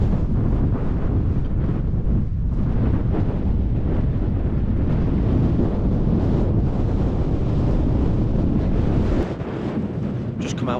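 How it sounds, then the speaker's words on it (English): Strong wind buffets the microphone on the open top of Hallin Fell in the Lake District at sunset, a loud, constant roaring rush that barely lets up throughout, with no voices. "A little bit windy, but still lovely."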